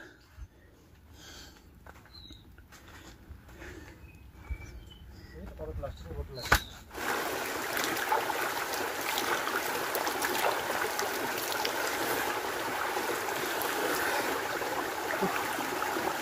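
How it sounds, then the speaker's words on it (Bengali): A small mountain waterfall stream on Dalma hill in the wildlife sanctuary near Jamshedpur. It is quiet with faint scattered sounds at first, then a steady, close, rushing wash of flowing water fills the rest. "এত ওপরে ওঠার পর এরকম ছোট্ট ঝর্ণা আসছে দেখুন"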